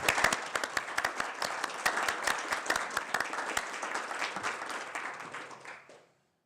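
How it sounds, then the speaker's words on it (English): An audience applauds for a panel at the end of a discussion event: steady, dense clapping from many hands, moderately loud, tapering off and stopping at the close. "I'd like to have you give a round of applause for the"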